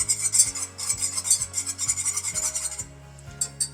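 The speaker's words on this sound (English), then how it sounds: "Just go ahead and whisk that into your beef broth." A whisk scrapes briskly against a pot as Worcestershire sauce is stirred into beef broth for brown gravy, a steady close rhythmic rasping with no voices.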